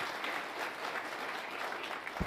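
Conference audience applauding at an NS2 cloud event, a dense burst of many hands clapping steadily and loudly throughout, without speech.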